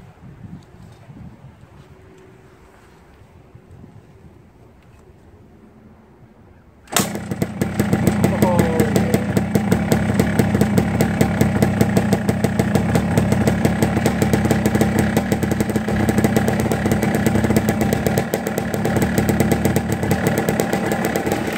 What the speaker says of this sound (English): Started up, first kick, no choke, 25 degrees outside, sounds like it's about to die